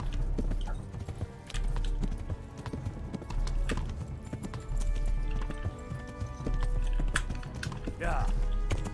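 Horse hooves clip-clop steadily in Kingdom Come: Deliverance as a horse is ridden, a continuous close rhythmic trotting with a brief whinny near the end and occasional keyboard-like clicks.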